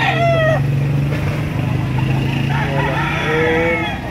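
Roosters and chickens at a busy poultry market crow loudly near the start and again toward the end, over a steady low hum and a background murmur.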